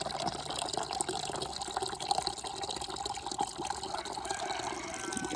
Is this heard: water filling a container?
yes